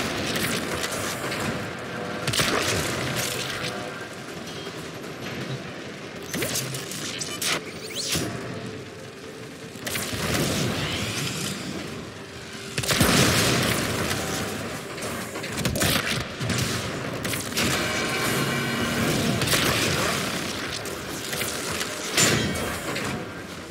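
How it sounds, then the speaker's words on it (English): Coolant cells exploding in the sci-fi shooter Warframe, with repeated booming thuds and crashes over a dense, busy backdrop of game effects and music. "We have no choice but to destroy them. Coolant cell destroyed."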